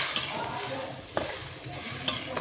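Bhola fish curry sizzles and bubbles in a frying pan as water is added to the spiced tomato base, a steady close crackling hiss with a few soft clinks of a stirring utensil.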